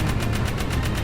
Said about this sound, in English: And of course I get hit by a missile.